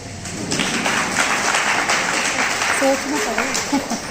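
Audience applause during a religious sermon in Indore, a broad steady wash of clapping that fills the space for several seconds, with a voice speaking faintly underneath toward the end.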